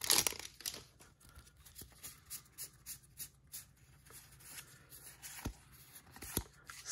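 A Magic: The Gathering Core 2019 booster pack torn open up close, with a burst of crinkly foil ripping followed by a run of rhythmic rustles and crinkles as the wrapper and cards are handled.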